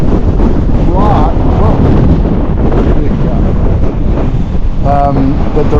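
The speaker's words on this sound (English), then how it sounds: "there's wind" Strong wind buffets the microphone in the McCollum Wilderness along a mountain trail, a loud continuous low rumble throughout, with someone speaking under it.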